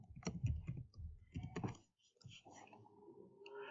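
Fingers type on a computer keyboard in short bursts of clicking keystrokes, with quieter taps and pauses between groups of keys.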